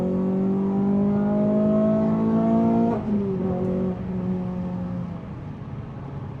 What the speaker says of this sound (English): we'll put it in the track mode and we'll do a quick third gear pull or second gear